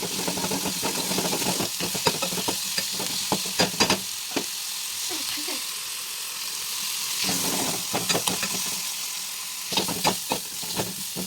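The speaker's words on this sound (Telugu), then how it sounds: "ఆనియన్స్ అయితే ఈ విధంగా ఫ్రై అయితే సరిపోతుంది." Onions frying in a pan with turmeric and salt, a steady close sizzle throughout with scattered louder crackles and stirring clatter, no voices.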